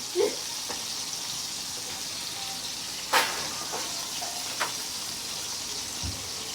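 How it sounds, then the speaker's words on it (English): Steady, faint sizzling hiss of food searing in a pan, with a few brief clinks and knocks over the continuous crackle. "So what we're doing is letting this go ahead and sizzle."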